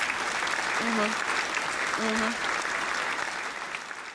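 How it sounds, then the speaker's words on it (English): Applause from a small crowd welcoming a guest on a live crypto show, steady dense clapping through the clip with a brief spoken word over it, fading slightly at the end. "Round of applause for"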